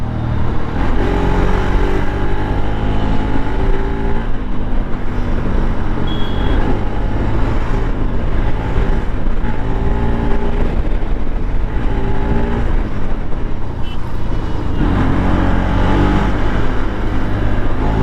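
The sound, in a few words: Bajaj Pulsar RS200 motorcycle riding at full throttle in city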